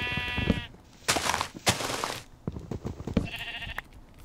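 Sheep in the Minecraft video game bleat in short wavering cries, one at the start and another near the end, mixed with clicks and thumps of play.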